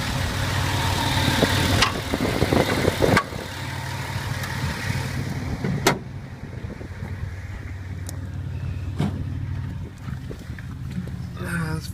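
A 2002 Dodge Caravan with the 3.3 engine and high mileage idles steadily with a low rumble, while a few sharp clicks and knocks cut through at intervals.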